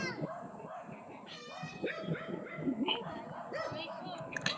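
A dog barks and yips a few times close by, mixed with people talking over it.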